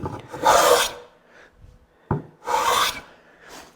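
Two rasping hand-plane strokes shave along a wooden cutting board, each a loud, broad hiss of about half a second, with a sharp knock between them and quieter scraping at the end.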